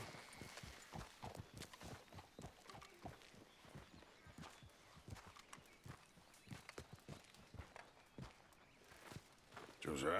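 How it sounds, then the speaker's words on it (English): Horse hooves clip-clop in a steady walking rhythm in the video game Red Dead Redemption, quiet and continuous over the whole stretch, with a brief louder burst at the end. "Get the horse out of here."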